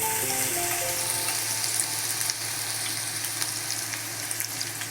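Grated ginger and garlic hit hot oil in a pan for a dry prawn masala, giving a loud, continuous close-up sizzle with a bright crackling hiss and faint soft clicks, no voices over it.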